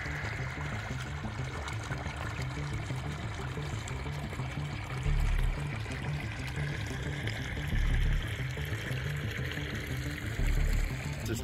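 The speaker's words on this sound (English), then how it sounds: "a real desert wash actually getting water through it" Steady rushing trickle of water flowing through a desert wash after a hailstorm, continuous and moderately close, with a few low thumps of wind or handling noise, no talking.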